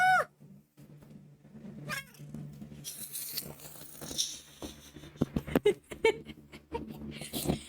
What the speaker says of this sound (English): She has different meows